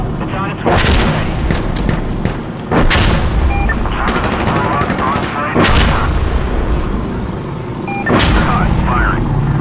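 Heavy gunfire in the video game Insurgency Sandstorm: loud blasts and bursts of shots crack out repeatedly, several big booming reports spaced about every two to three seconds over continuous battle noise, with voices talking over the gunfire.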